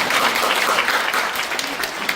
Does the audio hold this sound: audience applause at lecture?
yes